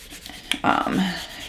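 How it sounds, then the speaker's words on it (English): A felt-sided scraper rubs a vinyl decal onto a surface for a night light, a brief soft tap followed by a short close rasping rub lasting under a second. "scraper here and just scrape it onto there real nice"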